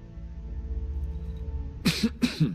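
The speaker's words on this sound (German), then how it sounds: "Nicht husten! Hier wird nicht gehustet!" Two short, harsh coughs burst out near the end, following a steady low background hum from a Skyrim game session.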